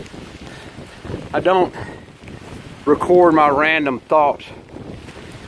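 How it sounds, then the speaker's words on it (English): Wind gusting across the microphone on an Appalachian Trail section between Bly Gap, Georgia and Deep Gap, North Carolina, a steady low rumble beneath someone talking throughout. "sorry for the wind"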